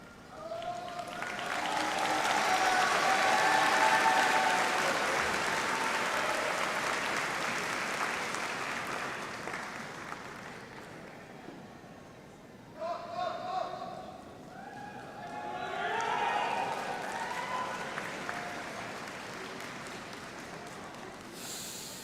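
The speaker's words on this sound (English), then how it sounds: "Please join me in extending another round of applause for our doctoral graduates" Audience applause at a doctoral graduation ceremony, a loud sustained wash of clapping from a large crowd that swells, eases, then picks up again in a second burst, with voices mixed in.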